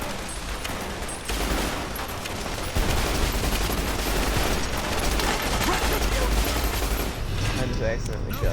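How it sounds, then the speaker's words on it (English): Dense, sustained gunfire in the video game Fallout: New Vegas, a rapid stream of shots that swells louder midway and keeps going until near the end, with talking mixed in. "I just accidentally shot that fucking guy."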